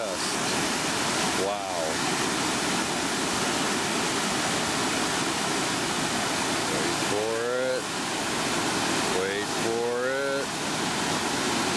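A roaring waterfall on a winter hike fills the scene with steady, loud broadband rush throughout, while a person speaks briefly over it a few times.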